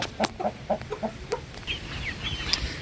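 Backyard hens cluck in a quick series of short, close calls, then softer higher chirps follow against light background noise.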